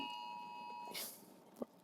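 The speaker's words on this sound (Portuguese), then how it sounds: "Isso é o alarme do tornado aqui no Rio de Janeiro." A tornado warning alarm in Rio de Janeiro gives a steady electronic tone that cuts off after about a second, followed by a faint rustle and a brief knock, all fairly quiet.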